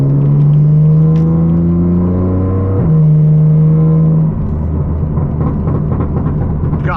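A BMW M car's engine, fitted with downpipes and an exhaust burble tune, drones loudly at a steady pitch. It briefly shifts up, then eases off as faint crackles and pops come through.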